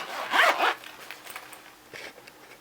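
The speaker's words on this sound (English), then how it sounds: "it all folds together nicely, zips up," A zipper on a soft carrying case for vaping gear is pulled closed in two quick, close, raspy strokes, with a softer shuffle afterward.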